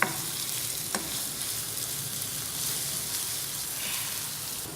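Onions frying in a pan toward light golden, a steady crackling sizzle with occasional stirring clicks, close and continuous.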